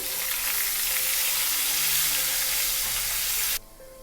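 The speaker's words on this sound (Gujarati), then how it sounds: "½ ટીસ્પૂન હળદર, 4 થી 5 મીઠા લીમડાના પાન અને ચોપ કરેલા આદુ મરચાં ઉમેરી એને સાંતળી લઈશું" Turmeric, asafoetida, curry leaves, chopped ginger and chillies sauté in hot oil for a Kathiyawadi dhokli curry, giving a loud, dense, close sizzle that holds steady before cutting off sharply near the end; no one speaks.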